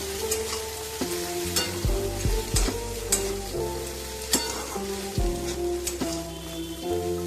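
Sago pulao with squeezed lemon juice being stirred in a hot pan, a close, soft sizzle punctuated by repeated clattering scrapes of the spoon against the pan, with no talking.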